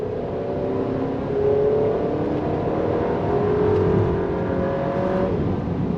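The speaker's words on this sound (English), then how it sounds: "The 4-cylinder turbo does a good job spooling up pretty quickly." A 2024 Chevrolet Traverse Midnight Edition with a 4-cylinder turbo engine accelerating on throttle, a loud, steady engine drone that rises and holds, heard from inside the cabin with no talking.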